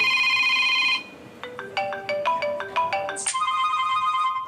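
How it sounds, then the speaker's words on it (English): An office telephone rings with a steady electronic tone, then a run of quick stepped melodic beeps, then another sustained ringing tone, fairly clear and close with no one speaking. "That's the office phone."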